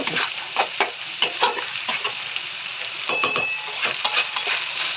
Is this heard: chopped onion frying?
yes